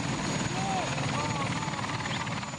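Helicopter flying over Tel Aviv's Ramat Gan district carrying freed hostages, a steady loud rotor and engine drone with crowd noise and voices mixed in throughout.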